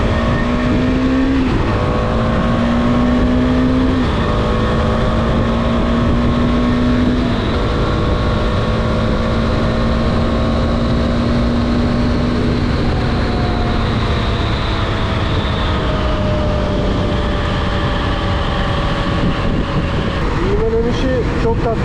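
A Husqvarna Svartpilen 250 motorcycle, still being run in, accelerates on a road toward Manavgat, its engine note rising through gears over heavy wind roar, loud and close from the rider's position.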